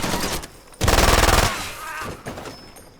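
Automatic gunfire in the Far Cry 2 shooter game, a loud sustained burst of rapid shots lasting under a second, with scattered quieter action noise before and after.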